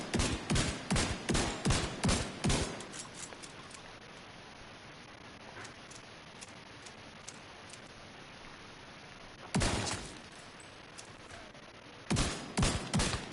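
Gunfire in The Division video game: a loud rapid burst of about eight shots, a long quiet gap, then two more short clusters of shots, with no talking.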